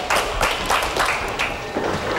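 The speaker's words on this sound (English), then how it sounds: "a nice round of applause for Karen" A small crowd at a bowling league match gives a bowler a round of applause, heard as a loud, rhythmic patter of clapping throughout.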